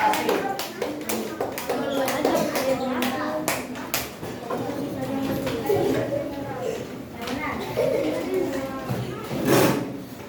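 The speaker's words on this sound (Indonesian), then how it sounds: "Ya, tepuk tangan semuanya" Students in a classroom clap their hands together at the teacher's request, a brief burst of sharp claps mixed with children's chatter and an adult voice talking.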